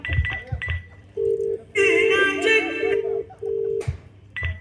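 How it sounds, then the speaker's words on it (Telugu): A phone ringback tone sounds in repeated steady bursts over a melodic ringtone, with no one picking up. "ఏంటి నాన్న ఫోన్ లిఫ్ట్ చేయట్లేదు?"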